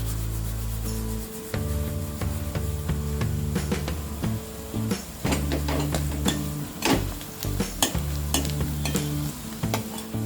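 Soya chunks curry with red chilli powder being stirred in a pan, repeated close scraping and rubbing strokes over a low simmering sizzle, with no talking.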